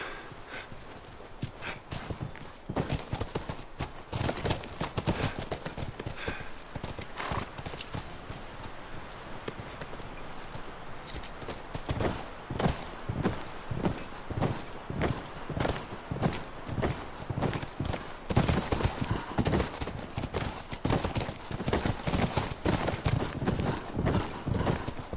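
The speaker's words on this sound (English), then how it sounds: "Come on, back to the horses." Horses' hooves clip-clop steadily in The Last of Us Remastered, many sharp hoof strikes in a brisk rhythm over a low ambient bed, getting denser and louder in the second half, with no speech.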